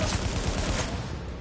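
Dense, continuous automatic gunfire from a firefight in the video game The Division, a steady close rattle of rounds filling the whole moment with no pauses.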